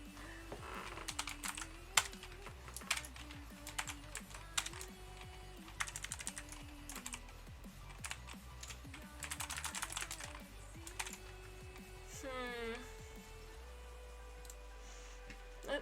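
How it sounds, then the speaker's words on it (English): Rapid computer keyboard typing during a Go and Vim coding session with a Postgres database in Docker, steady clattering keystrokes with brief pauses, close and fairly loud, with no talking. "I'm typing all this stuff behind my head"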